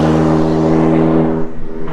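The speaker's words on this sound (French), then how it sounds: "tu entends sacrément bien le compresseur sur cette Elise" Supercharged Lotus Elise engine at a race circuit track day, a loud steady multi-harmonic drone from a nearby car that holds level and then wavers and eases slightly toward the end, with no talk.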